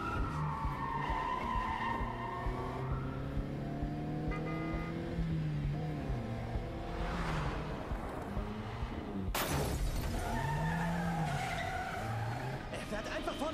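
Car tires skidding and squealing in the Quantum Break video game as a vehicle drives out the front, engine droning throughout, with music and voices layered over it.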